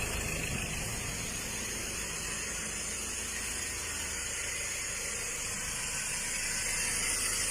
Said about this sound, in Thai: เสียงเครื่องยนต์นะครับ เสียงที่ท่อนะครับ